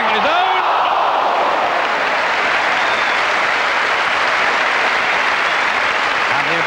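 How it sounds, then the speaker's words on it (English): Football crowd at an Everton v Southampton match applauding, a loud, continuous wash of clapping and crowd noise filling the whole stretch, with a commentator's voice running over it. "The applause you can probably hear in the background will tell you how pleased the crowd have been"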